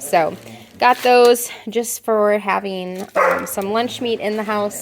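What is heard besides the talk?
dogs playing and fighting over a paper bag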